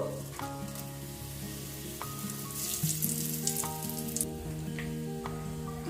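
Whole spices for palav (cardamom, cinnamon, star anise and bay leaves) sizzling steadily in hot oil, with a loud, continuous crackle close by and occasional stirring clinks.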